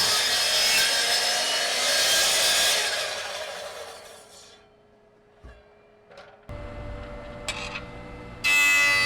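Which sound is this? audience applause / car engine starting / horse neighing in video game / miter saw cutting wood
miter saw cutting wood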